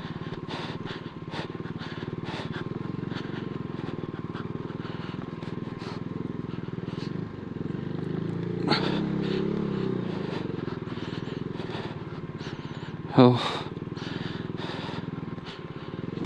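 A Himalayan motorcycle engine drones steadily while riding over a bumpy road, with occasional rattles and a sharp knock near the end.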